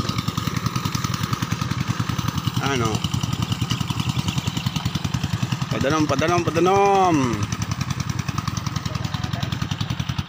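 A small irrigation pump engine runs steadily in a cornfield, its fast, even chugging continuous throughout and close by, while someone talks over it now and then.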